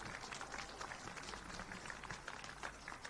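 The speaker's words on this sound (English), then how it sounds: "Ladies and gentlemen, a round of applause for your runners-up once again" Crowd applauding the runners-up, APIA Leichhardt, at a Waratah Cup football final presentation; steady, dense clapping from many hands at moderate distance, continuous throughout without a break.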